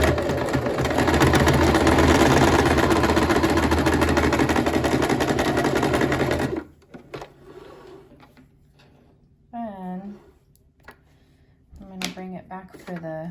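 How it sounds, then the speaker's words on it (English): A sewing machine stitches a straight 5/8-inch seam along a shirt sleeve, a loud steady whirring run that stops about halfway, followed by quieter handling sounds and a voice speaking. "I'm just gonna sew straight down 5/8 seam allowance."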